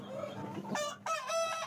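Young Fayoumi chickens, about three months old, clucking and crowing in a cage: a few close, loud calls with rising squawks, over a low farmyard hum.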